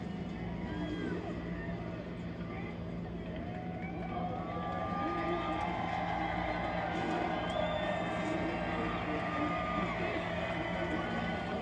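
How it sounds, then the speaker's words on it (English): A large crowd roars and cheers at a NASCAR Xfinity Series race in Nashville, a steady, sustained wall of voices and whistles with no pauses, fairly loud and continuous throughout. "To the roar of the crowd here, appreciative of his talents"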